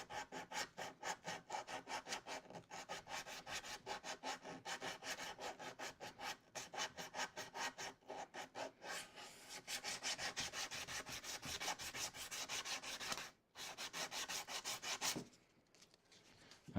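Rapid rhythmic rubbing strokes along the edge of a plywood end panel, a steady scratchy back-and-forth that continues nearly unbroken, pauses briefly, then fades near the end.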